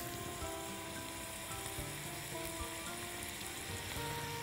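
Green peppers and garlic fry in a pan for a picadillo dish, giving a steady, even sizzle with faint crackles throughout and no talking.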